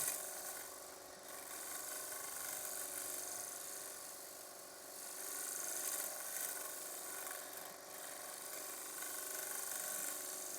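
A lathe scraper shaves a wide-rimmed wooden bowl with a steady, continuous hiss and rasp as it cuts slowly. The sound swells and eases in long waves but never stops, heard alone and fairly close with no voices.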